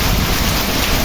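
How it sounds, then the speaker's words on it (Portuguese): Heavy afternoon rainstorm with strong wind in the Pernambuco backcountry, a dense, steady downpour that roars close and loud throughout, with no voices over it. "Muita água, muita chuva agora à tarde aqui."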